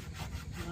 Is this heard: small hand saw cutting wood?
yes